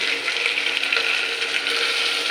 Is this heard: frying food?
yes